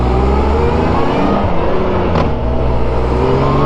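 A 1994 Honda Goldwing GL1500 motorcycle engine runs loud and steady under way, a continuous throaty drone with dense low harmonics and little change in pitch throughout.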